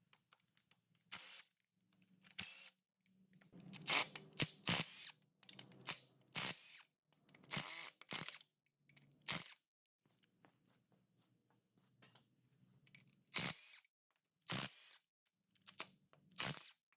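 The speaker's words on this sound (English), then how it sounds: "I'm gonna pull out all the cross bolts and then just loosen the main bolts." Several short bursts from a power drill or impact tool as it loosens the main bearing cap bolts on a junkyard 6.0L LS V8 engine during teardown, each burst a second or so long, separated by pauses and faint clinks.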